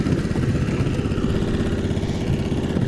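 A Snowdog Compact motorized dog sled engine running close by, a loud, steady, slightly clattering idle that holds an even rumble throughout.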